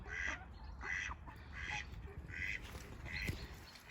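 Ducks on a farm with chickens and geese give a run of five or six quacks in a steady rhythm, fairly close but soft, over a low outdoor background rumble.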